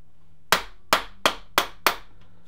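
An impact driver undoes the crankcase plate screws on a Suzuki Bandit motorcycle in five short, loud, sharp bursts, evenly spaced, with no talking.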